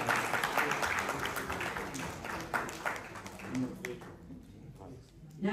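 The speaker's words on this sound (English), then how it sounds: "A round of applause, please," An audience at a Ugandan diaspora investment gathering in Birmingham applauds, a blur of clapping and crowd murmur that thins out toward the end, with voices mixed in.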